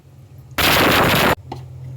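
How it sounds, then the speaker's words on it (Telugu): A kitchen mixer grinder (mixie) whirs loudly in one steady burst of under a second, starting and stopping abruptly against a low background hum, with a faint click just after. "మిక్సీ పట్టుకుంటున్నానండి"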